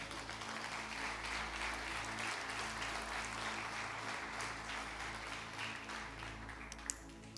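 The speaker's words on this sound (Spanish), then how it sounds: "dale el aplauso a Jesús" Congregation applauding for Jesus at a Spanish-language church service, a steady wash of clapping holding evenly throughout over a low hum, with no talking.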